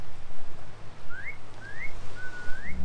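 A person whistling to a seal at Alcatraz, three short rising whistled notes, the last one longer and sliding upward, clear and close over faint wind and background rumble.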